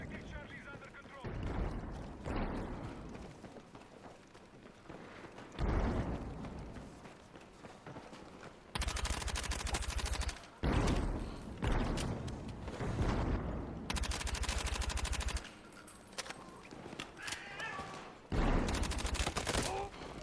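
Gunfire in Battlefield 6, with dense bursts of automatic fire and loud, sustained volleys coming and going across the scene, mixed with running footsteps and battle noise while players talk.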